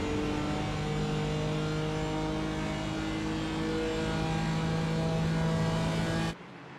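An LMP3 prototype race car at Watkins Glen in a racing sim roars steadily at high revs, a loud sustained engine drone that cuts off abruptly near the end.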